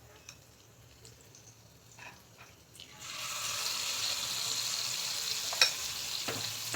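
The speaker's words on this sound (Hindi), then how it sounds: "तो अब हम डालते हैं अपने पुए को।" Malpua batter, made without refined flour or sugar, hits a hot pan and breaks into a steady, moderately loud sizzle of frying. A few faint clinks and scrapes come first, and one sharp tap sounds near the end.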